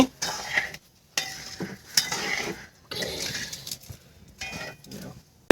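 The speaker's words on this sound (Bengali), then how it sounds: "আমরা এখন একটু নেড়ে ছেড়ে দিচ্ছি" A spoon stirs sugar syrup cooking in a pan on the stove, close scraping and clinking in several short bursts separated by brief pauses, with a faint sizzle.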